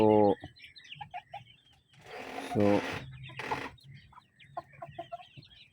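A tall, large Turubian chicken clucks and calls in short bursts near the microphone, with a loud cackle at the start and again midway and softer clucks scattered throughout.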